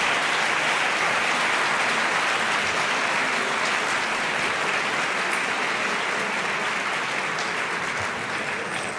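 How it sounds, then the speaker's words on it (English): An audience gives a long, even round of applause after a debate on genetically engineered babies, a thick continuous wash of clapping that holds steady for the whole stretch. "I just want to invite a round of applause for them for what they did."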